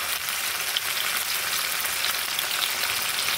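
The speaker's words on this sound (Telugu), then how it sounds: "పచ్చివాసన పోయేవరకు వేయించుకోవాలి" Ginger garlic paste fries in oil in a pan for green coriander chicken curry, giving a dense, even crackling sizzle that holds steady and close throughout, with no voices.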